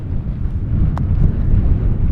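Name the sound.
wind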